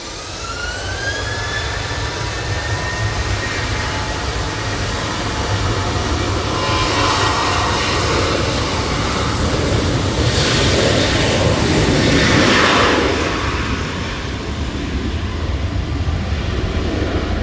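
Boeing 737-800 jet engines roaring steadily at Manchester Airport in storm conditions, a loud broadband rumble with whine that swells toward the middle before easing, heard alone without talk.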